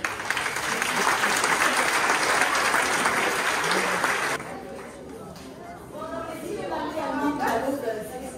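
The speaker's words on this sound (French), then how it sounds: "Je vous demande de les applaudir très fort." A crowd applauds the staff at a show, loud dense clapping for about four seconds that cuts off abruptly, followed by voices talking over lingering room chatter.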